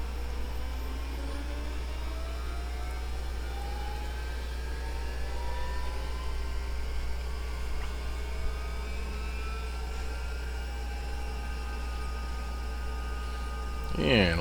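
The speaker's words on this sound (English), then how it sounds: "So with that, let's go ahead and start engine number 2." Engine number two of a Bell 412 helicopter in X-Plane 11 spools up with a steady low hum and a slowly rising whine that grows toward the end.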